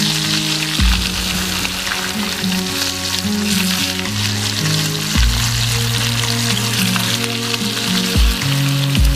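Thin bacon fries in a pan with a loud, steady sizzle and crackle, close up, while low musical tones play underneath.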